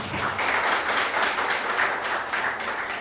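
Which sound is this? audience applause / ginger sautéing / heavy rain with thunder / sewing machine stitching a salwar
audience applause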